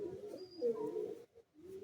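Teddy pigeons kept for sale coo in a short, low, throaty burst. It is fairly close and clear, breaks off briefly, then resumes, with no talk over it.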